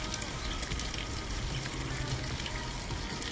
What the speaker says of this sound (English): I'm gonna be adding the bacon.